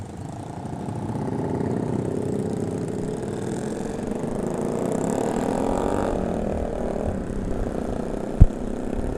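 A motorcycle engine idles and rumbles steadily at a traffic light at night, with a truck passing nearby and continuous low mechanical drone throughout, ending with a brief sharp knock.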